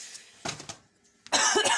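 Two harsh coughs close to the microphone, a brief pause, then a longer, louder burst of coughing.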